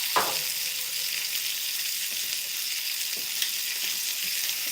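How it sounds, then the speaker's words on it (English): Green beans and thyme sizzle and fry in a hot pan, blistering as they cook: a steady, close, crackling hiss with a few small pops, and no talking. "let's get our thyme in here with our green beans. And it's making some nice noise now."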